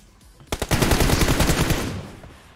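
Gunfire in a video game: a rapid automatic burst of about a dozen loud close shots in a fast even rhythm, tailing into a fading echo, with no voice.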